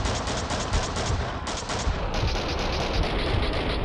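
Rapid gunfire in the video game Max Payne 2 crackles in quick repeated bursts, dense and loud, over a rumbling background with no speech.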